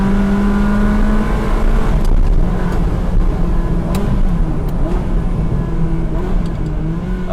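A Ferrari 360 Spider with a manual gearbox revs hard nearby, its engine note climbing and settling in a loud, continuous roar with sharp rising whines, no talk over it.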